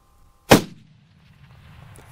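A single sharp rifle crack from a long-range shot at a shooting school, loud and close, with a brief rolling echo trailing off into quiet.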